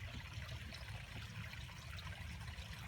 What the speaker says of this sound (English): We got another little waterfall up there.